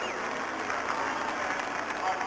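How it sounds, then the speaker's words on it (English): Spectators at a Daytona stock car race applaud, a dense sustained wash of clapping from a large crowd heard at a distance, with a commentator's voice over it. "Jeff Gordon gets a round of applause from the crowd here."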